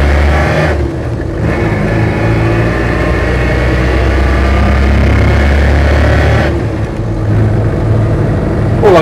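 Land Rover Series III diesel hardtop driving in the lower gears, its engine droning steadily and loud with a constant whine from the gearbox riding over the rumble, the note dipping briefly twice as the engine load shifts.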